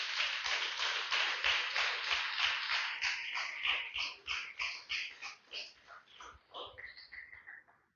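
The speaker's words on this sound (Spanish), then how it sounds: "Déselo fuerte el aplauso" A church congregation claps in a steady rhythm, quiet and somewhat distant, the beats growing sparser and softer as the applause dies away.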